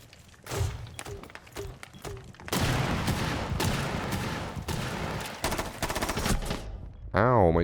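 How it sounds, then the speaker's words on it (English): Gunfire in a team shooter video game: a few short single shots early, then a long loud burst of rapid automatic fire with a brief lull, ending in a warbling electronic tone. "Ow, my teammate just shot me."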